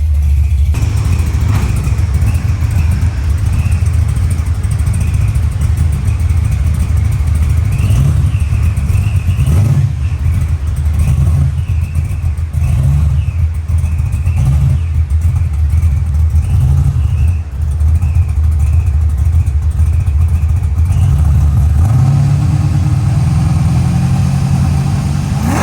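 A 2024 Ford Bronco Raptor idles, a loud, close, steady low engine rumble that holds for the whole stretch with small fluctuations and a slight rise near the end.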